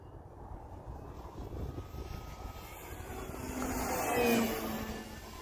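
A Flex Innovations Mamba 60E electric RC airplane flies overhead in wind, its thin whining motor rising and falling, faint at first and growing louder as it passes nearer, over steady wind noise.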